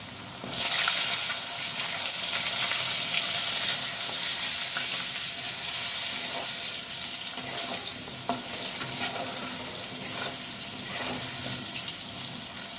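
Thinly sliced potatoes dropped into a kadai of hot oil with a pinch of nigella seeds, giving a loud, steady hissing sizzle with occasional stirring scrapes throughout and no talk.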